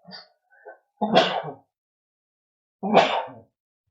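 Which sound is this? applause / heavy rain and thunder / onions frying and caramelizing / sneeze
sneeze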